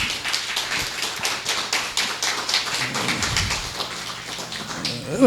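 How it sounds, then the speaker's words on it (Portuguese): A church congregation applauds in a dense, steady patter of many hands clapping, with some low voices and thumps emerging near the end. "Vocês começaram a aplaudir, né?"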